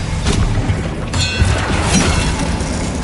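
Expelliarmus spell cast in Hogwarts Legacy: a loud, dense burst of crackling, shattering noise with a booming low rumble that stays steady for a few seconds.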